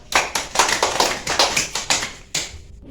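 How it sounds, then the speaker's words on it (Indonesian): A small group in an Islamic study class on manners toward neighbours claps for Iva, about a dozen distinct, slightly uneven claps close by, pausing briefly before a last one or two. "silahkan beri tepuk tangan kepada Iva"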